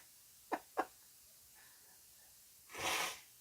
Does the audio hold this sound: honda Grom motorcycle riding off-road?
no